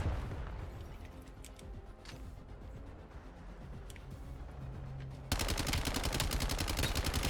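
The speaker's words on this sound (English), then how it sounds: "Oh, that was just my shooting." Rapid automatic gunfire from the player's weapon in Call of Duty Black Ops 7 cuts in suddenly and sustains a dense, loud burst after quieter in-game ambience with scattered distant shots.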